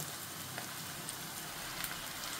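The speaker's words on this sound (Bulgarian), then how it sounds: "Лука вече е готов, по-омекнал е и добавям каймата." Minced meat tipped onto softened onions in a pan for moussaka sizzles with a steady, even crackling hiss that stays close and constant throughout.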